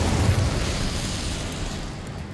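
The Incendio fire spell is cast in the video game Hogwarts Legacy, giving a continuous, moderately loud fiery roar and rush that slowly fades over about two seconds, with no talking.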